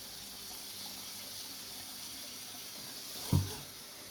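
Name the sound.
rinsing a tie-dyed shirt under running tap water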